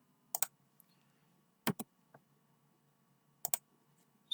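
Computer keyboard typing while code is written, heard as three short bursts of two or three crisp close key clicks separated by quiet pauses, with no voice.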